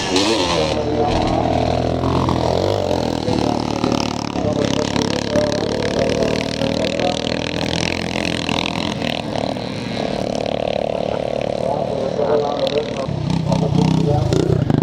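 Several Yamaha YZ motocross bikes at a classic twin-shock charity scramble in Northern Ireland climb a hill, their engines droning and revving loudly and continuously, with a commentator talking over the steady roar.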